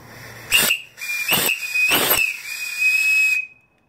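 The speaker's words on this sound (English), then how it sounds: "It's a Powell whistle," A Powell steam whistle on a live steam boiler blows three short hissing blasts and then one longer steady blast, loud and close, ending in sudden silence.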